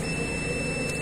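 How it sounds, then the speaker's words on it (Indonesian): Continuity buzzer of a multimeter (avometer) during repair of a JLD jet cleaner: a single steady high beep sounding continuously and close, over a faint hum, with no talk. "Kalau nyambung, dia harusnya ada suara beep."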